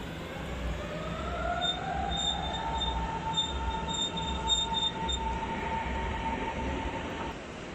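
A German S-Bahn commuter train rolls steadily along the rails with a low rumble and high, drawn-out wheel squeals, sustained and fairly close.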